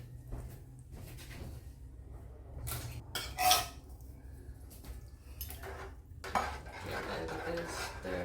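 Metal spoon clinks and dish clatter in a home kitchen while cream of mushroom soup goes into a pot of chicken and dumplings, with a couple of sharper knocks among soft rattling and scraping.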